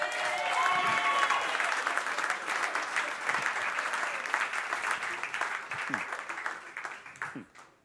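A church congregation applauds steadily and fairly loudly as a wedding-blessing sermon pauses, the dense clapping fading out toward the end, with a few voices calling out beneath it.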